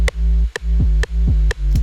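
An aggressive low sub-bass sample from an electronic dance track, richer in harmonics than a pure sine, pulses in a steady repeating rhythm with short percussive clicks on each hit, loud and alone.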